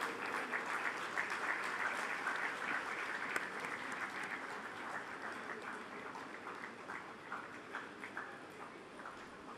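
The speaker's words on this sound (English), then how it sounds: "Keep the applause going." Sustained audience applause at the IIM Kozhikode 26th convocation ceremony, full and loud at first, then gradually thinning so that individual claps become distinct toward the end.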